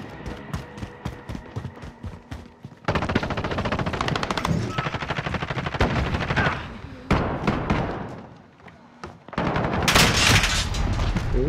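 Automatic weapons fire in a Call of Duty team deathmatch on the Piccadilly map: quieter scattered shots at first, then long, loud sustained bursts with short pauses, sometimes fading before roaring back.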